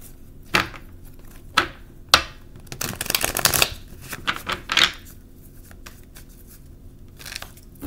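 Tarot cards shuffled by hand, with a few sharp riffles and a longer dense burst of flicking and sliding cards midway, close and dry with no talking.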